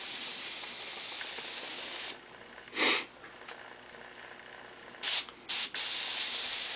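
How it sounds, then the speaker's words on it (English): Airbrush spraying paint with a steady close air hiss, broken by a short pause, then several brief sharp bursts of spray before the hiss resumes. "Dagger does have a very wide spray pattern when you pull out."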